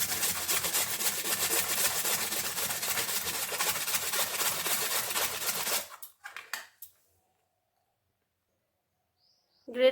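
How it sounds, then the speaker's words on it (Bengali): A peeled potato rubbed on a handheld grater in a kitchen, a steady rapid scraping for several seconds that then stops, followed by a few faint knocks and near silence. "গ্রেট করে নেব"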